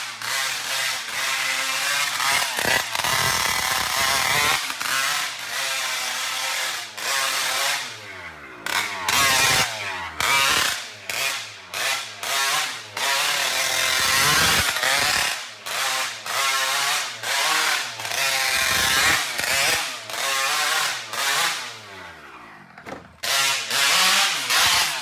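A loud two-stroke engine screams and bogs repeatedly while drifting, its pitch sweeping up and down in sharp, frantic revving bursts with brief cut-outs between pulls, close and harsh.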